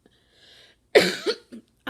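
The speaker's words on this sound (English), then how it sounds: "Every time I breathe in like that, it makes me cough." A single person coughs up close, a sharp burst followed by a second shorter cough and a smaller third, after a faint intake of breath; the sounds are loud and stand alone without talk.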